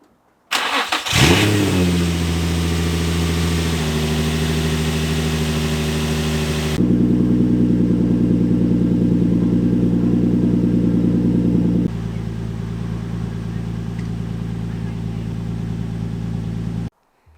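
A Nissan 350Z engine cranks and catches after a spark plug change, then settles into a steady idle with a couple of shifts in pitch, running smoothly and close by.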